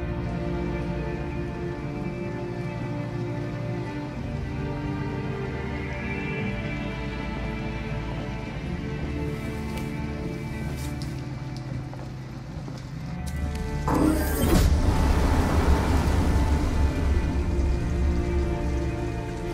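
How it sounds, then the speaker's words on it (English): Pouring rain in the video game Detroit: Become Human, a steady broadband wash throughout with a low music bed, growing louder and heavier in the last few seconds, with no talk. "it's pouring rain"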